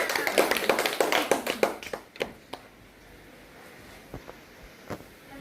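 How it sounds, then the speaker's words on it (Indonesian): Classmates in a school catechism class clap for a student named Diana, a short burst of many close hand claps that fades out after about two seconds, leaving a few isolated taps in a quiet room. "kita berikan tepuk tangan untuk Diana"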